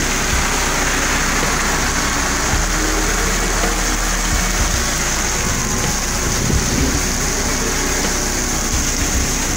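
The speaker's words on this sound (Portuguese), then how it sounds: "Chove bastante na terrinha." Heavy afternoon rain drumming continuously on a downtown avenue in Mossoró, Brazil: a dense, loud, unbroken wash with a low engine rumble underneath.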